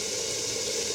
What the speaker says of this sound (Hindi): ज़्यादा साबित प्याज़ों को लाल किया